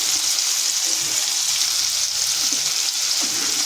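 Cashews sautéing in a pan for a broccoli and potato kurma gravy, giving a steady, close, dense sizzle that runs unbroken and fairly loud throughout.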